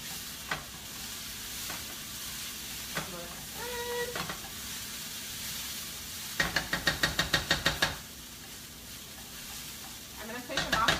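Food sizzles steadily in a frying pan while ground beef and diced onion are cooked, with occasional stirring scrapes and a quick burst of spatula knocks against the pan.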